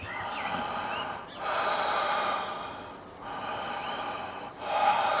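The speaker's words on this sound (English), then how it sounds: "So you lie down and breathe like this" Slow, deliberate deep breathing during a breathwork session, with long audible airy inhales and exhales in a steady rhythm, close and fairly quiet, with no talking.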